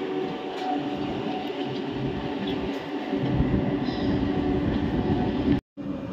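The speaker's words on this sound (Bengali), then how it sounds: "অবশেষে ট্রেন ছাড়লো।" A Howrah to Midnapore local train pulls away, a steady rumbling roar of wheels and carriages heard from on board, growing slightly louder before a brief cut near the end.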